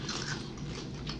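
Potato chips crunching between the teeth close up, a steady run of crisp, crackling bites and chewing alone with no talk, eaten beside a turkey sub.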